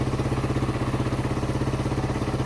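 Yamaha XT225 motorcycle idles close by after sitting for months, its single-cylinder engine holding a steady, even chugging rhythm throughout.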